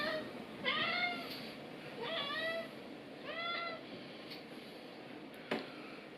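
Several cats meow in a chorus of rising, wavering calls, three distinct bursts spread across the stretch with quieter gaps and a faint click between, fairly close in a home setting.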